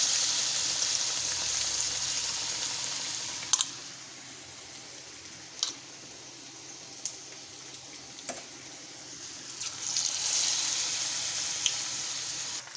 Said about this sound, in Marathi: राहिलेले 2 वडे मी तेलात सोडते